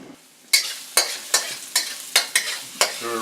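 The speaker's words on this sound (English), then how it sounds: "Stir it around, let it get fragrant." Oil sizzling in a hot wok while being stirred, with about seven sharp scraping strokes at a regular pace after a quiet start, close and fairly loud, no talking.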